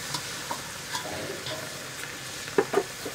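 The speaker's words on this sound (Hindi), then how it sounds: "ये देखिए हमने चना उबलने के लिए डाल दिया है।" Chickpeas cook in a pan for Bihari-style chana saag, giving a soft steady sizzle with light stirring scrapes and a couple of sharper clinks near the end. No one speaks.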